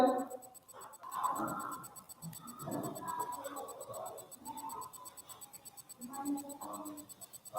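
Pen or chalk scratching out notes in a science class, a steady run of small strokes close by, with speech-like sounds woven between them.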